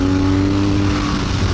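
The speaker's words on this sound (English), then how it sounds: "It's a very uninspiring engine note, and a very uninspiring engine in general." BMW R nineT boxer twin motorcycle engine running loud and close with a steady, buzzing, utilitarian note and no voices over it.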